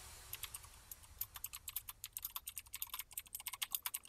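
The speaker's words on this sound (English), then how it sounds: "Hold on, I'm typing." Quiet, rapid keystrokes clatter on a computer keyboard, a fast irregular run of light clicks that grows denser and slightly louder toward the end, with no talking.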